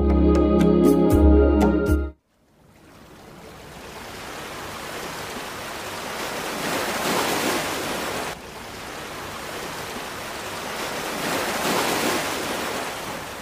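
Sea waves break on a sandy beach in a steady, full roar of surf after a short burst of music, swelling and easing without any voices.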